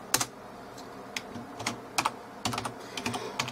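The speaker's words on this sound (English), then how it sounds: "Let me just put my password in." A password is typed on a computer keyboard in short, irregular bursts of crisp key clicks, close up with no talking.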